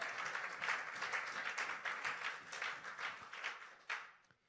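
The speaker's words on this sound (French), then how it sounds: "Est-ce qu'on peut acclamer très fort le roi des rois" A church congregation applauds loudly in praise, a dense, sustained burst of clapping that fades near the end.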